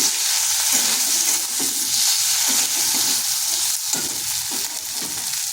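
Spice paste with chili powder fries and is stirred in a pan, giving a loud, steady, dense sizzle with scraping stir strokes throughout, no voices.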